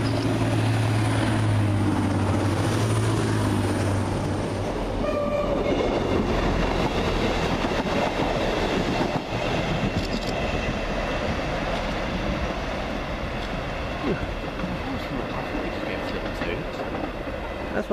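A Class 185 diesel multiple unit on a Cleethorpes to Manchester Airport service passes through Swinton station, a loud, steady, close rumble of engine and wheels that lasts throughout, with a brief whistle-like tone near the start.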